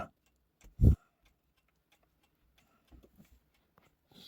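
An antique Black Forest picture-frame clock from around 1870, with a wooden spring-driven movement and side doors, gives one loud knock followed by faint, sparse ticks in a quiet room.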